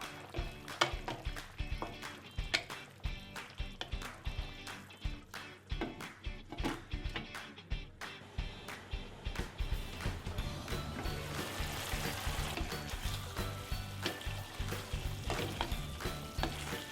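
A chicken and turnip curry cooking in a pot, with a utensil stirring in quick rhythmic scrapes before settling into a steady close bubbling sizzle; no talking.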